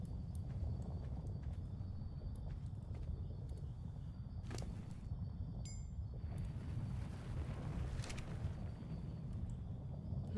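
A horse walks in the video game Ark Aberration, its soft, steady hoofbeats sitting under a constant low ambient rumble with a few faint chimes.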